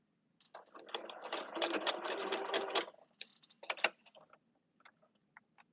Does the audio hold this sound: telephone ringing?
no